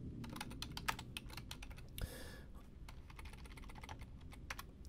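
Quick, close keystrokes clatter on a computer keyboard as a site name is entered, a rapid, uneven run of clicks with a brief pause and one heavier press midway.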